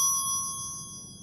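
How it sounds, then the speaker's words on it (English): A single bell rings once at the start, and its clear high tones hang on and slowly fade through the whole moment, fairly quiet, with no voices over it. "Let me ring the bell."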